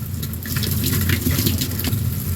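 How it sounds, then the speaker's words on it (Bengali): Running tap water splashes steadily as coriander leaves are rubbed and rinsed one by one by hand in a kitchen sink, a continuous close gush with small irregular splashes and no voices. "এখন আমি পাতাগুলো খুব সুন্দর করে একটা একটা করে ধুয়ে নিচ্ছি"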